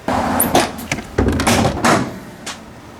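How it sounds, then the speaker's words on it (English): A car hood being popped open: a short run of close, solid clunks and latch knocks with brief pauses between them, fairly loud with no voices. "First thing first, I guess I have to pop the hood."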